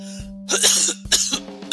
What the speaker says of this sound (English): I've got a cough going on